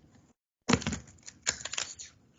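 A deck of tarot-style reading cards riffle-shuffled close up, a sudden rapid fluttering burst followed by a second crisp riffle and a few soft taps, with no voices.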